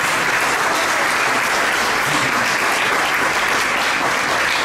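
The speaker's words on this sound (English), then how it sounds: "I ask you for a big applause" Loud, sustained audience applause at the grand opening of an international film festival, a dense, continuous wash of many hands clapping close by without letup.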